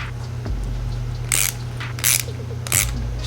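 Ratchet clicking as a carburetor bolt is snugged down on a Toro snowblower, three short bursts of quick metallic clicks close up, spaced about a second apart over a low steady hum.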